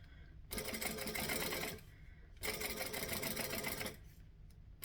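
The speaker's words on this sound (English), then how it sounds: "We're going to stitch. We're going to back stitch." Sewing machine running two bursts of fast, even stitching as it stitches and back stitches a 3/4 inch bag strap, close and steady, with a short quiet gap between runs and no talking.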